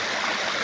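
A stream flows at night, its steady broadband rush of running water filling the short stretch evenly and fairly close, with no voices over it.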